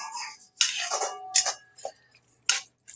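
Onions stirred in a cooking pan for chole curry, several short scraping and clinking strokes of a utensil against the pan, close and fairly quiet, separated by brief pauses.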